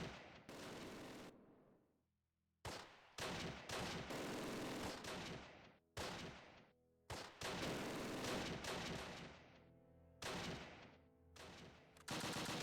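Gunfire in Close Combat: The Longest Day, a Normandy street battle with German troops, loud bursts of rapid shots and blasts in clustered volleys with brief gaps, close and dense, no voices.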